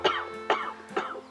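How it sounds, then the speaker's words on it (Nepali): An old man gives three hoarse coughs in quick succession, each a sharp burst with a short breathy tail, close and fairly quiet, in a persistent, sickly rhythm with no speech. "यसरी खोक्दै बसेर हुन्न"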